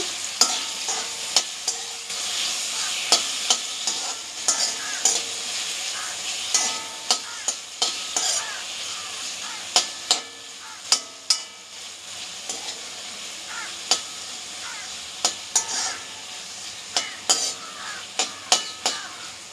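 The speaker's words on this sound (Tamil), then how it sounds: "அது வரைக்கும் நீங்கள் தக்காளி நல்லா வதக்கிக்கோங்க" Tomatoes sautéed in a pan with a steady frying sizzle and quick, regular clinks and scrapes of a spoon stirring against the metal throughout.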